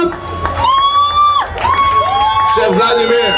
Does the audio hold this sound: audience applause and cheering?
yes